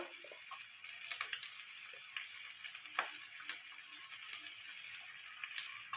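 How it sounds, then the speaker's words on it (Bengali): Chicken feet sautéing in a pan with chili and cumin powder, a soft steady sizzle with scattered clicks and scrapes from stirring, fairly quiet throughout. "এটা ভালো করে কষাতে থাকবো জিরের গুঁড়ো"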